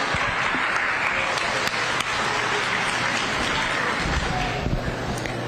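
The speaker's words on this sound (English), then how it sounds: "Give them all a big round of applause," An audience at a youth fair sheep show gives a big round of applause, dense continuous clapping from a crowd in a large space, steady and loud throughout.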